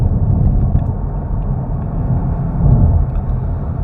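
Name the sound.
Kia Stinger GTS facelift car driving on road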